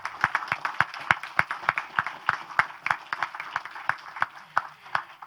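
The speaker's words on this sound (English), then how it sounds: "Please give them a round of applause." Steady applause from a conference audience, many hands clapping with sharp repeated claps throughout, moderately loud and without any talking.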